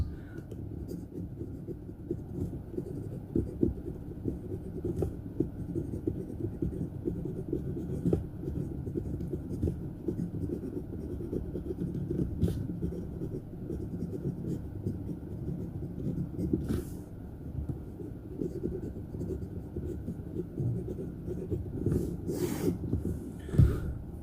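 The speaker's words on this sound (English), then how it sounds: "The writing with a Bock nib is fantastic. This is a medium width Bock nib." A Syahi Imperator fountain pen with a medium-width Bock nib writing on paper, a faint, continuous close scratching with small strokes and pauses, alone for most of its length.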